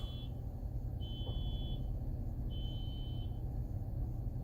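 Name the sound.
alarm going off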